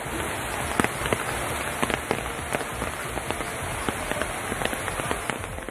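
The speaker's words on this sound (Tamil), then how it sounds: "மாஹே பகுதியில் கடந்த 3 நாட்களாக கனமழை பெய்து வருகிறது" Heavy rain falls in Mahe, Puducherry, a dense, steady hiss scattered with sharp drop impacts, close and loud with no voices.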